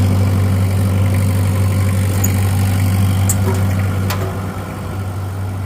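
A plot combine harvester's engine idles nearby, a loud steady low drone with a constant hum and faint rattles, easing slightly toward the end.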